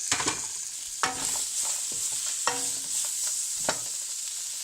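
Diced potatoes and peas sizzle steadily in hot oil in a pan for samosa filling, with a spoon scraping and stirring through them in several distinct strokes over the continuous frying hiss.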